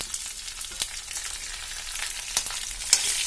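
Peanuts, curry leaves, and green and dried chilies fry in hot oil for banana-flower pulihora, giving a steady close sizzle with a few sharp crackles and pops.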